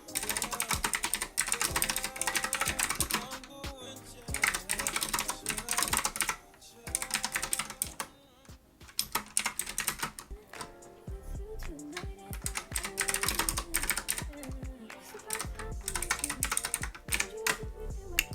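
Keys clatter on a computer keyboard in bursts of fast typing, close and fairly loud, with a few short pauses and no talking.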